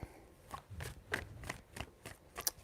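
Tarot cards are shuffled in several quick riffled bursts with short pauses between them. The sound is close and fairly soft against a quiet room.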